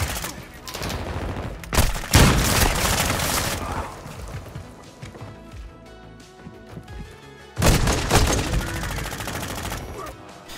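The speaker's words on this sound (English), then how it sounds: "Heavy fire." Heavy, sustained gunfire in a Call of Duty: Modern Warfare II multiplayer match, loud and continuous with dense rattling bursts and sharp impacts that swell again near the end, faint voices mixed underneath.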